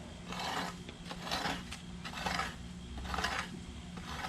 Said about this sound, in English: the reason I'm scraping this crap right here is not to get the grass up, but kind of level the dirt a little bit